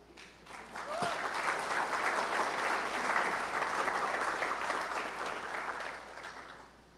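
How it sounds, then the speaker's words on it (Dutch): Applause from the audience at a technology summit's closing keynote, swelling quickly into sustained clapping from a large crowd that holds steady for several seconds before tapering off. "U heeft het met een applaus beaamd"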